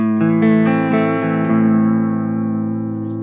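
A sustained guitar chord rings out through a Chase Bliss Audio Warped Vinyl pedal with a smooth wavering sine-wave modulation, notes plucked in quick succession then left to decay.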